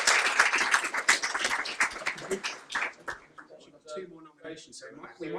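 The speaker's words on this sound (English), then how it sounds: "Round of applause, please, for Austin, isn't it?" Audience clapping at a science advocacy group's annual general meeting, a dense burst of applause for the first few seconds that fades as a person starts speaking.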